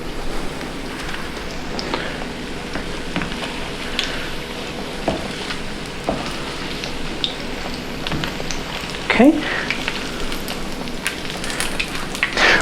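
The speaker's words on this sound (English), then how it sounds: "We're going to finish frying these guys up" Zucchini flowers frying in hot oil give a steady close sizzle with crackles and pops throughout, and a voice speaks one brief word.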